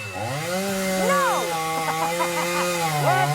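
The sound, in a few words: chainsaw running, in a Peacemaker episode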